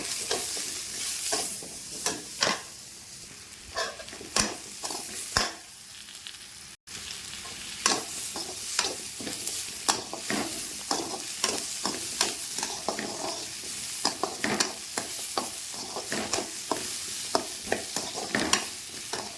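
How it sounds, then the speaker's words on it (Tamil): Cut raw mango sautéing in a pan for mango kuzhambu, a steady sizzle with repeated scraping stir strokes throughout, close and fairly loud, with no talking. "இதையும் போட்டு ஒரு 2 நிமிஷம் நம்ம வதக்குவோம்"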